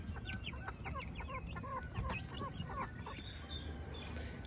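Chickens, including silkie chicks, in a summer garden in Texas, clucking and chattering steadily at close range, with many short repeated calls over a constant low outdoor rumble.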